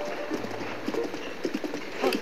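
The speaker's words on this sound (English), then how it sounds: "Another horse." A horse's hooves clip-clop in a steady trotting rhythm in Zelda: Breath of the Wild, heard close over soft game ambience.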